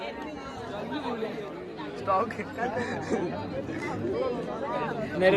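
A packed temple queue in Ujjain fills with dense crowd chatter, many overlapping voices talking nearby in a steady babble.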